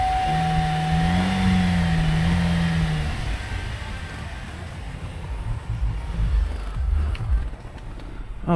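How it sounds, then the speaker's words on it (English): A car's engine runs steadily during an appraisal, a low, continuous motor hum with faint mechanical noise and no clear revving, heard up close. "Motor sounds good."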